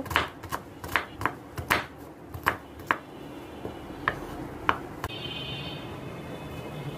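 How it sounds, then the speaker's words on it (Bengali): A peeled onion is chopped finely on a board for cooking beef brain, giving a rapid run of crisp knife knocks that slows into sparser, lighter cuts before fading into quiet kitchen background. "পেঁয়াজটা ছিলে ভালোভাবে কুচি কুচি করে কাটছি"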